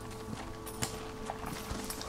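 Horse hooves clip-clopping in Red Dead Redemption: Undead Nightmare, a few soft, irregular hoof steps at a walk, faint and close, with no talking.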